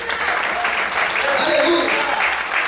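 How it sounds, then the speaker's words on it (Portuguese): A church congregation applauding during a service: sustained, dense clapping from many hands filling the room, with voices talking and calling out over it. "Você pode aplaudir o Senhor nessa noite?"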